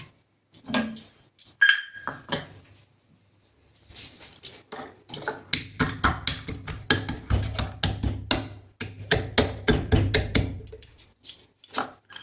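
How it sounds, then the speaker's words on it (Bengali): Cashew nuts pounded to crush them while making thekua, a series of knocking, clinking strikes against a bowl or pot, sparse at first and then steady and repeated, close up with no talking. "আর এই কাজুগুলো দেখছেন এগুলো আমি একটু থেতো করে দেবো আর কি।"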